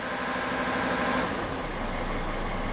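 A Mercedes 270 CDI diesel engine with a faulty alternator idles at close range, giving a steady, even mechanical hum and clatter with no voices.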